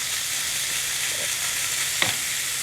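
Corned beef hash spread in an even layer sizzling in a cast iron skillet, a close, steady hiss with one brief sharp scrape or pop near the end.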